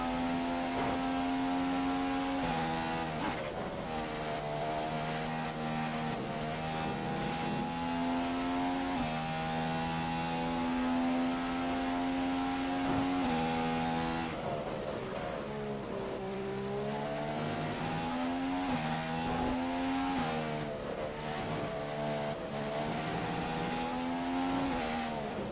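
A McLaren Honda Formula 1 car in the racing game F1 2015 at Australia, its engine howling at high revs under steady load. Brief dips mark gear changes and lifts, and the note then climbs again, continuous and close throughout.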